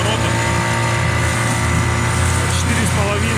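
Yamaha 25N outboard motor, still on break-in fuel mix, running steadily at about 4000 rpm, a loud continuous drone with a voice talking faintly over it.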